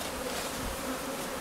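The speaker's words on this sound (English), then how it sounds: "That's chains of bees building comb." Honey bees forming chains while building comb in a hive, a steady dense buzz of many insects, continuous and close throughout with no voices.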